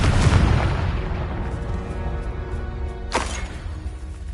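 A Confringo blasting spell explosion in Hogwarts Legacy, a loud deep boom that rumbles and decays over a few seconds, followed by a second sharp crack and burst.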